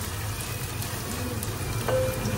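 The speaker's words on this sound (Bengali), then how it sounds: "এখানে নতুন আলুটাকে না একটু ভাজলাম, বুঝছো, পেঁয়াজ দিয়ে আর একটু ভাজবো" New potatoes and onions fry in a pan with a steady, soft sizzle, a continuous crackling hiss close by with no voices over it.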